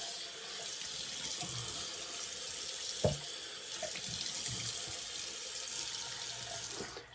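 A tap runs cold water in a constant close rush for a post-shave rinse, with a brief knock near the middle and a few small clatters, then the flow cuts off at the end.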